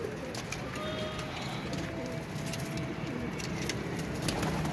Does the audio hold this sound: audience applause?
no